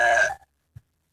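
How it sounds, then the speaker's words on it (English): A single short burp, loud and close, ending abruptly and followed by a faint low thump and silence. "Don't burp in my face."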